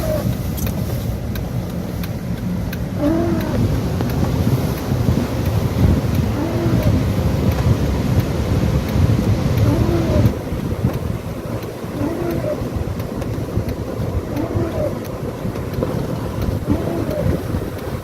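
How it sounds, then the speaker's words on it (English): Strong wind roars steadily beside an extremely rough sea in San Salvador during rain after Hurricane Melissa, a loud continuous rush with no voices. "It's still quite windy here."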